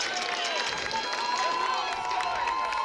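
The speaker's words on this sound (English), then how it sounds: "Hometown crowd bringing up the energy here." Hometown crowd at an ultimate frisbee game between Indy Red and Austin Torch in Austin, producing a steady, dense wash of cheering and clapping with scattered shouts, fairly loud and continuous throughout.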